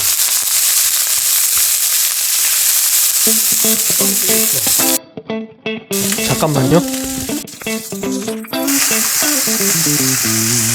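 Frozen fried rice hits a preheated stainless steel pan on a medium-low electric cooktop, giving a loud, crackling sizzle that continues with brief dropouts while someone speaks over it.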